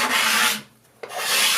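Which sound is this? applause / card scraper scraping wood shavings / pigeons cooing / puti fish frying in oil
card scraper scraping wood shavings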